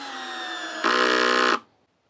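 A Hyper Tough drill/driver on clutch setting 9 drives a screw into a board with a high motor whine that rises in a brief, louder burst as the load increases, then cuts off abruptly.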